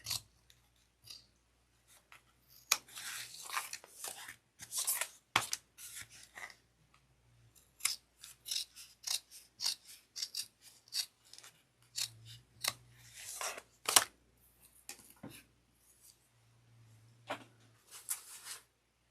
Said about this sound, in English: I'm going to trim off the excess by flipping it to the back